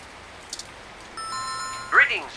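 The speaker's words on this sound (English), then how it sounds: "Maybe try the bell again." Doorbell chime in the video game 2064: Read Only Memories: a bright, sustained electronic ding-dong tone rings out after a quiet stretch over faint ambient rain, followed by a short synthesized flourish.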